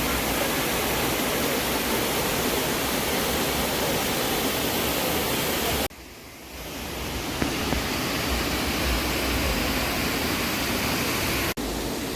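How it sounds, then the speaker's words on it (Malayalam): Cheeyappara waterfall in Kerala, on the road to Munnar, gives a constant, full roar of falling water. The roar dips briefly just before the midpoint and then returns just as loud. "വളരെ മനോഹരമായ ചീയപ്പാറ വാട്ടർഫാൾസിൻ്റെതായ ദൃശ്യങ്ങളിലേക്ക്"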